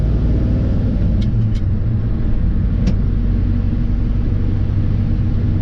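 A 1970 Ford F100 4x4 pickup with a 360 engine and a 4-speed gearbox cruises at around 50 mph, giving a loud, steady low rumble with constant road and engine drone and a few faint ticks.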